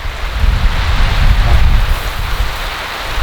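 Heavy monsoon rain at a campsite, a steady, loud hiss of downpour drumming on surfaces, with a low wind rumble underneath and no voices.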